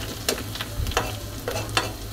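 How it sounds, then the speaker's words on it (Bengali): Garlic and onion frying in hot oil in a home kitchen, a steady close sizzle broken by several sharp scraping stirs, with no talking. "তো এভাবে আমি রসুন পেঁয়াজ ভেজে নিব।"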